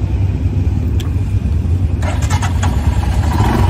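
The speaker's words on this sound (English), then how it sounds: "Let's listen to that idle" A Royal Enfield Himalayan motorcycle engine idles, a steady, close, low rumble that holds throughout. Some faint clatter rises over it partway through.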